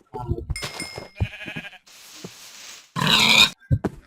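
Sheep bleating in the Minecraft video game, several short nasal bleats and grunting animal noises in quick succession with a loud burst near the end, mixed with other game sounds.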